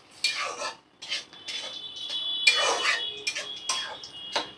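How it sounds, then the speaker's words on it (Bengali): Soaked Gobindobhog rice goes into a cooking pot: close rattling, scraping bursts of grains and utensil against metal, coming in several uneven rushes with brief pauses. "চালটা দিয়ে দেব। পনেরো মিনিট ভিজিয়ে রেখে দিয়েছিলাম গোবিন্দভোগ চালটা।"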